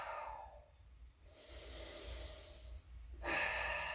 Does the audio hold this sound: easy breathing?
yes